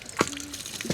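Clear water splashing and gurgling from a newly drilled well, a brief close burst of pouring liquid with a couple of louder splashes.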